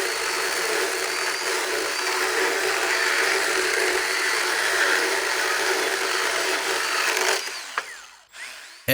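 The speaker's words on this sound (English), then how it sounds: "Let's make a few cuts to see how the saw really performs." A Milwaukee M12 FUEL cordless pruning saw (M12 FHS) cuts through an 80 by 100 mm timber, a steady loud whine of chain on wood lasting about seven seconds before stopping, followed by brief clatter.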